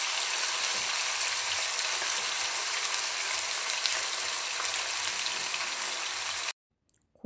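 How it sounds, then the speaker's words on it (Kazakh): Meat frying in hot oil for mampar soup makes a loud, dense, continuous sizzle up close that cuts off abruptly near the end. "Осы қызып тұрған майымызға етімізді салып, қақтап, қызарғанша етімізді суы тастағанша қақтап қуырып алатын"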